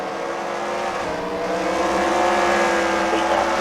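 Race cars roar steadily around the track at Freedom Factory during a CWRL Fight Night main event, a dense continuous engine drone with a slight swell as cars pass, no voices.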